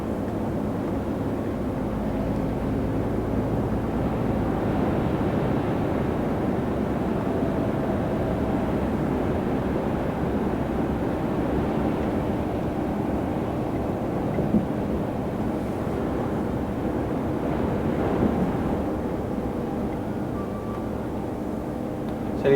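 A truck with a lightly loaded trailer driving on a high-wind road in France, a continuous low engine and road drone with wind buffeting, steady and moderately loud without talk.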